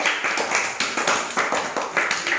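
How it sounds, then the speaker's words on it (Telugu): A group of Grade 1 and 2 children in a primary school classroom claps together for a classmate, a fairly loud, evenly timed series of sharp claps repeating about every half second. "క్లాప్ శివమణికి"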